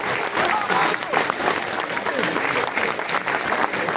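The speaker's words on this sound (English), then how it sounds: "Please give a standing reputational applause for the father of reputation" Standing applause from an audience at a public presentation, a dense, steady wash of many hands clapping at once, loud and sustained throughout with no pauses.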